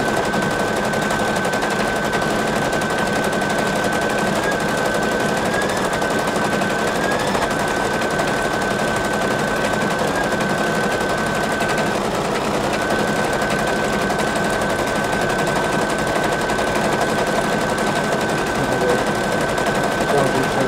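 An embroidery machine stitches a PE Design photo-stitch pattern, giving a steady, loud, continuous rapid needle chatter with a sustained whine throughout, no one talking.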